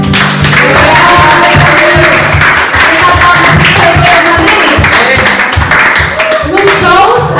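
A church congregation claps along amid loud music and voices, the clapping blending into a dense, rhythmic wash that stays strong throughout.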